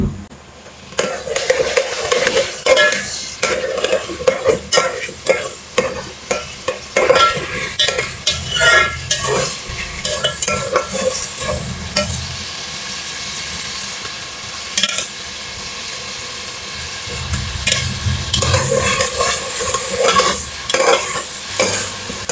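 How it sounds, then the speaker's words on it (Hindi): Steady sizzling of potatoes frying with garlic paste in a pan, with frequent stirring and scraping of a spoon, continuous and close throughout. "अब हम इसको लहसुन रख के पेस्ट के साथ फ्राई करेंगे।"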